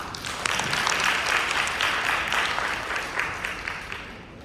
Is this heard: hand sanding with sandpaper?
no